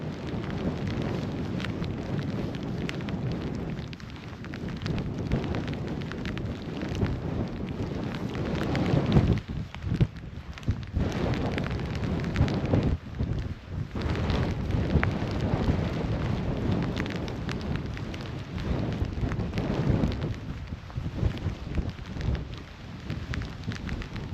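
Wind blows at the standing stones on the Isle of Lewis, producing a loud, steady roar with gusts that buffet the microphone throughout, and no talking.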